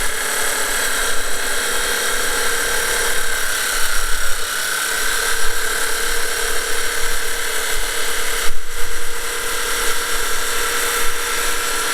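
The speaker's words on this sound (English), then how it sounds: "drill some holes in it" A power drill whirs steadily and loudly as it bores holes into a wall for fixings, its pitch wavering slightly, with brief dips in between.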